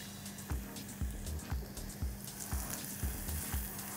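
Garlic, carrot, celery and onion sizzle loudly in a hot pan, a steady crackling fry with soft stirring knocks repeating about every half second.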